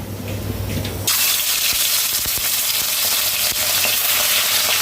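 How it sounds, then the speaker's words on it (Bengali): Rohu fish pieces go into hot mustard oil in a wok and burst into a loud, steady hiss that continues close and unbroken after a quieter opening moment. "তেল দিয়ে মাছগুলো আগে ভেজে নেব।"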